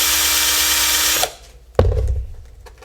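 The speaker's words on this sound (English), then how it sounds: "Tilt the drill over, chamfer" A power drill tilted over to chamfer a hole, whining loudly for about a second before stopping, then a short burst of rough cutting and scraping that fades out.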